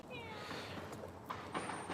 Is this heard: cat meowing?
yes